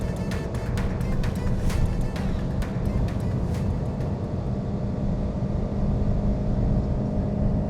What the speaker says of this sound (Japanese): いやー相変わらずでもあれだね、エンジンは元気いいね。